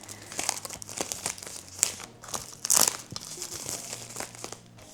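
Plastic shrink wrap crinkles and tears as a vinyl record, an album, is unwrapped close up. The crackling comes in irregular bursts, with one louder rip near the middle and no talking.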